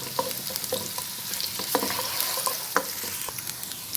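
Spring onion whites fry in a pan for egg fried rice with a constant close sizzle broken by repeated stirring scrapes and clacks of a utensil against the pan, and no talking.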